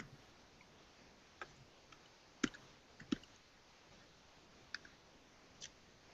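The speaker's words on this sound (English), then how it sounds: "what I'm going to do is I'm going to type in your email address." Scattered keys tapped on a computer keyboard while entering an email address, faint irregular clicks spread out with pauses, a couple sharper strokes standing out.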